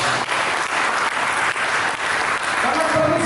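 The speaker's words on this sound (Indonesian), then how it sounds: "Mari kita beri tepuk tangan." A church congregation breaks into sustained, loud, dense clapping during a sermon, steady throughout with no voice over it.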